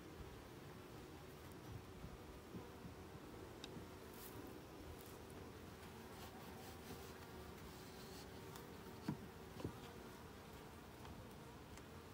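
Honeybees buzz around a Layens hive outdoors in a steady, faint, continuous drone from many insects, with a few brief nearer passes and no talk.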